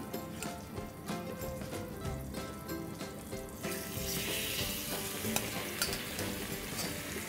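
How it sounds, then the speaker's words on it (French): Butter and olive oil heating in a frying pan over a gas flame, a continuous close sizzle with light stirring and clinks, growing brighter and more intense partway through. "une poêle, un petit peu de beurre, un peu d'huile d'olive. Mettre à chauffer là, sur le gaz."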